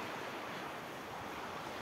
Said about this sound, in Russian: Приехали с Левиком на море.